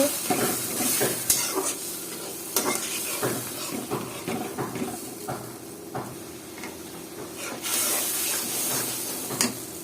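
A spice paste with garlic and a splash of water sautés in a pan for a pumpkin, prawn and Malabar spinach dish, giving a soft bubbling sizzle broken by repeated scraping stirs.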